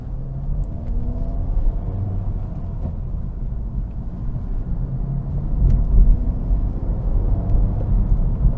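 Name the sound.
2024 Acura Integra Type S with 6-speed manual driving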